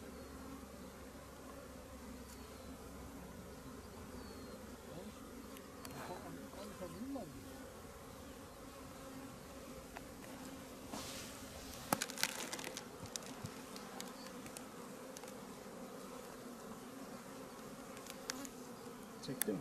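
Bees buzzing around beehives in Kars, a dense continuous drone of many insects close by, with occasional louder passes of single bees and faint rustling underneath.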